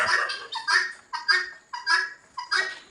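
Chickens, turkeys and guinea fowl call out in a steady, repeating rhythm, about five harsh, honking cries in a row, fairly close.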